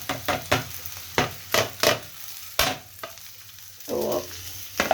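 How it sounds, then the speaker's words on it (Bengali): Fish, potato, peas and spring onion fry in a kadai, with a series of distinct spatula scrapes and stirring strokes over a low sizzle, fairly close and with no talk. "যেহেতু মাছ আর আলু, কড়াইশুঁটি, পেঁয়াজকলি ভাজা আছে"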